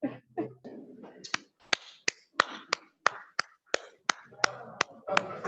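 One person clapping in a steady, even rhythm, about three sharp claps a second, close and fairly loud, with a little murmured voice in the first second.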